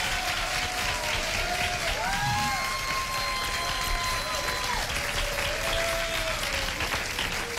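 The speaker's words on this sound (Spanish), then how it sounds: "un aplauso para el mago" Steady, dense applause from a TV studio audience for a magician, running continuously with bright musical tones and a voice gliding over it.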